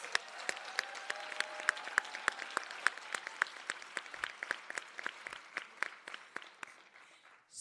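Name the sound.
audience applause at nursing ceremony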